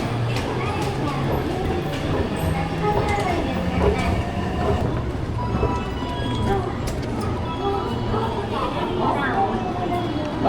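The Thunderbird 13 express train arriving at a Japanese platform, a continuous heavy rumble with wheel clatter and low mechanical hum rolling past close by, while people talk over it.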